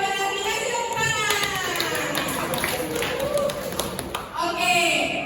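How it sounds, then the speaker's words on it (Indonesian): A classroom of students claps for a correct answer, with a spread of uneven claps mixed with children's voices and chatter. "Kasih tepuk tangan."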